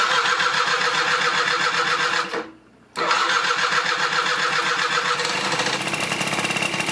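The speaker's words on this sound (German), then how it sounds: "Schalten wir mal die Zündung ein und dann probieren wir es mal." An old Qingqi Sasy Classic 2000E Chinese scooter engine, choke on and carburettor newly repaired, running loud and close with a buzzing drone, briefly dropping out, then catching again and settling into a steady idle.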